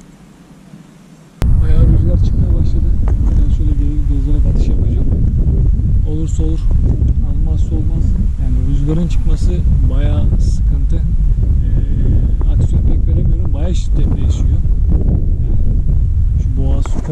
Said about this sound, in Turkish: Rüzgar geliyor. Bayağı şiddetli.